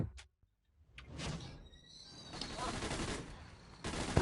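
Gunfire and explosive bursts from the open-world action game Saints Row: The Third during co-op play with tanks, a dense, loud wash of shots and booms that fills most of the clip after a brief quiet start.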